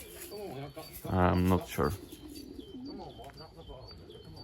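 Racing pigeons cooing nearby in a loft, a couple of short throaty coos rising over steady background noise, with a person speaking briefly alongside them.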